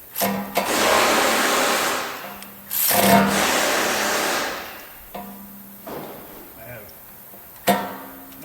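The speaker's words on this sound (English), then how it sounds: "I'm just going to use my little cordless ratchet" Cordless ratchet spinning a 5/8 long spark plug socket on a Toyota engine, several loud whirring bursts of a few seconds each, separated by short pauses, close by.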